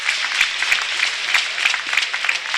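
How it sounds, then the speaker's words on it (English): Crowd applauding at a Canada versus Switzerland match of the 2022 IPCH Powerchair Hockey World Championship, a steady wash of clapping from many hands that continues evenly throughout. "He gets a nice ovation from the crowd."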